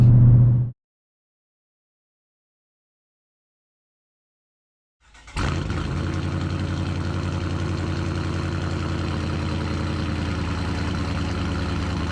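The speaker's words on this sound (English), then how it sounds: "Listen to this car chop at idle." A 2017 Challenger T/A 5.7L Hemi V8 with a COMP 274 cam idles lumpy and uneven with a heavy cam chop, rumbling steadily after a few seconds of near silence, close and loud, with no voices.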